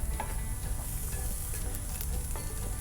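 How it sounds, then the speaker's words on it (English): Peppers are stirred with a spoon in a hot pan, a steady close sizzle with faint scraping and clicks running through the whole short stretch. "let's take our spoon here. Kind of just move our peppers around a little bit"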